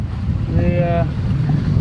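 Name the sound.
sailboat sailing downwind in wind and waves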